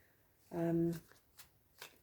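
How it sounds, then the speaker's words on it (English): Tarot cards are shuffled in brief papery riffles and flicks, close and soft, with a short hummed vocal sound near the start. "I'm going to shuffle and draw a few more cards just to clarify"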